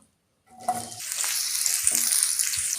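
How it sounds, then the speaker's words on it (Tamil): Loud, bright sizzling of onions deep frying in hot oil for a potato curry, beginning after a brief silence and continuing steadily, with a few soft stirring knocks. "நல்ல கலர் மாதிரி டீப் ஃப்ரை ஆகிட்டுருக்கு"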